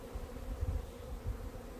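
Honeybees buzz around hive frames as pollen patties are placed, a steady low drone from many bees, close and fairly faint, without any voices.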